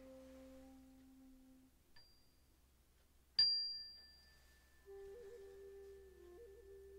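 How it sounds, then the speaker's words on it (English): A meditation chime is struck once, giving a clear bright ring that slowly fades in a quiet room, with soft sustained tones before and after it. "And when you hear the chime,"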